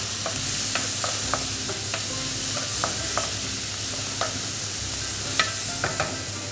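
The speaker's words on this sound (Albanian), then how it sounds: "Besa mishin e leprit të skuqet." Pieces of hare meat fry in a hot pan with a steady close sizzle, broken by frequent light clicks and scrapes of stirring at an uneven rhythm.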